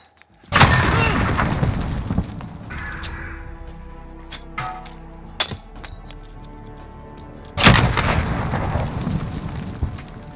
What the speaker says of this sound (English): if you aim right at that last gray window and you throw the nade, you can actually bank it off